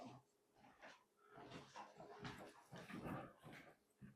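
A dog whimpers and yips in a run of short, strained cries, close by and fairly quiet, broken by brief pauses.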